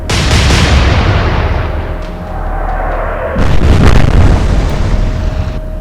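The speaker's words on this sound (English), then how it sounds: "We've caused a big explosion" Naval gunfire and a big explosion in the video game Atlantic Fleet: a loud deep boom followed by a second heavy blast, with rumbling low-end decay and a steady tone underneath, no talk.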